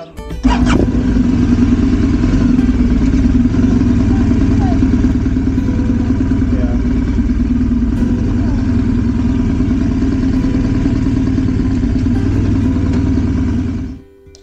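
A motorcycle engine idles loudly and steadily close by for about thirteen seconds as the bike is brought inside a building, a rough throbbing rumble that cuts off abruptly at the end.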